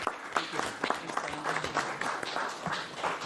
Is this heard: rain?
no